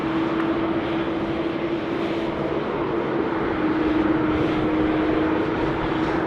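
A Cathay Boeing 747-8 freighter pushing back at Sydney Airport gives off a constant loud roar of running jet engines, with a steady droning tone throughout.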